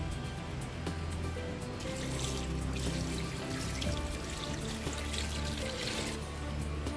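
Water pours steadily from a tap into a pan of milkfish being prepared Spanish style, a continuous close gushing and splashing that fills the whole stretch.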